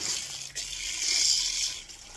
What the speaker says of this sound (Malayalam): നമുക്ക് നനയ്ക്കാം